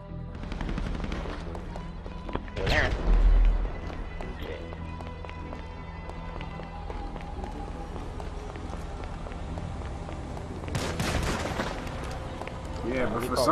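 Gunfire in a Grand Theft Auto 5 Online team deathmatch comes as a few sharp bursts, one near the start and another cluster later, over a steady game background with occasional talk.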